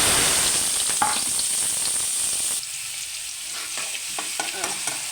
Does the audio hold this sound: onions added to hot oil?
yes